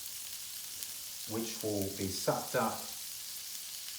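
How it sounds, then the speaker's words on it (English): Bacon frying with mushrooms in a pan, a continuous faint sizzle running under a voice as he speaks briefly. "I'm going to add some of our bacon"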